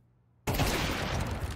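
A sudden loud burst of gunfire in Counter-Strike 2 cuts in after a quiet moment and continues as a dense, sustained volley.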